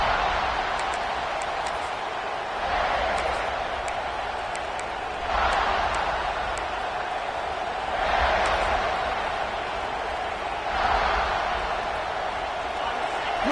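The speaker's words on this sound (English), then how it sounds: "Listen to the crowd energy here in the early going." A large American football stadium crowd roars steadily in the distance during a USC versus ISU playoff game, swelling in waves every few seconds, with a commentator talking over the din.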